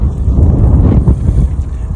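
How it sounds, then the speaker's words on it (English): Strong wind buffets the microphone outdoors beside a truck being greased, making loud, continuous low rumbling gusts that fill the whole stretch with no other sound clearly heard. "it's super freaking windy out here today"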